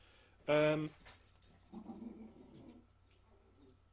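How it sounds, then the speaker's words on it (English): A dog in the background gives a sharp bark near the start, followed by softer whining and snuffling sounds, while someone talks briefly over it. "Apologies for the dog."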